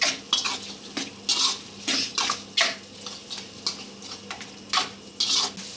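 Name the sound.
stirring chicken gravy with pepper powder in a pan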